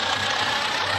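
A New Holland 3232 tractor engine in a video game hums in a steady, continuous drone with no pauses or voices.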